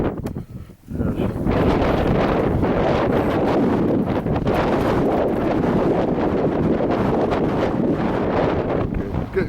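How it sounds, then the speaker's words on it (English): Strong evening easterly wind on an open hillside near Loch Earn, buffeting the microphone in a loud, continuous rushing roar with gusty swells over nearly ten seconds. "with the winds picking up from the east as it does at this time of the evening before it settles"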